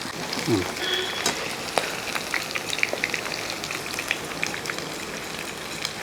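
Beef pieces frying in hot oil, turned so both sides cook without burning: a steady crackling sizzle with scattered pops runs throughout, moderately close, with faint background speech.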